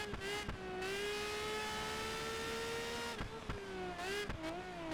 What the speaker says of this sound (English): This car is really loud as well.